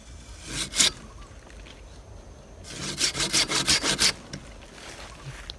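A hand saw rasps through a teak tree branch, first in a short stroke or two, then in a quick series of rhythmic back-and-forth strokes, close and fairly quiet.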